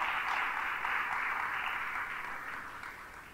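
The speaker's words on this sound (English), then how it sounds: "I think we must also give the team a big round of applause again." A school audience gives a team a dense, washy wall of applause that sounds distant and gradually fades.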